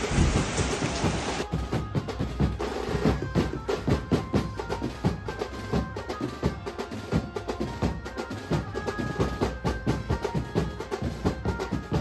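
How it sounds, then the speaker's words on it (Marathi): Steady rain pours around a Ganesh festival pandal in Panvel, a dense continuous hiss that runs through the whole stretch, with scattered crowd and background noise underneath and no one speaking. "पण जरा पाऊस आहे"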